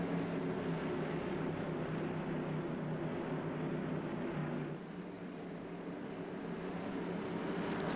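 Modified race cars in a racing video game roll double file down the back stretch before a restart, a loud steady engine drone that dips slightly partway through and holds on without any talk.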